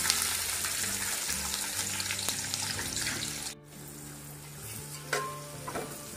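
Onions fry in hot oil for mutton biryani, with a loud, steady sizzle and crackle, a brief break, then a quieter sizzle with the occasional clink of a utensil.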